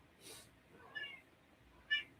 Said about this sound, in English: Thanks for being my good kitty.